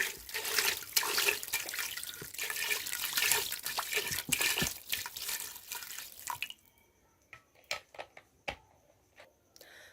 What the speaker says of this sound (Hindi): अब इसके बाद मैं पानी ऐड करती हूँ।